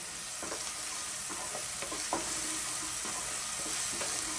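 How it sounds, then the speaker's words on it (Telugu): Spices being stirred and mixed in a frying pan for mutton curry, a constant soft sizzle with repeated spatula scrapes and taps at a regular pace, fairly quiet and close. "ఇప్పుడు ఇదంతా కలుపుకోవాలి"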